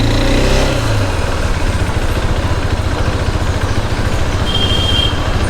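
A 2022 KTM RC390 motorcycle engine fires up with a brief rising burst, then settles into a steady, close, throbbing idle for the rest of the clip.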